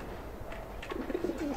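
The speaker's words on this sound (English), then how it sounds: "Hi, pigeon!" A pigeon coos in the video game Alice: Madness Returns, a few soft, low, rolling coos near the end over faint ambient game sound.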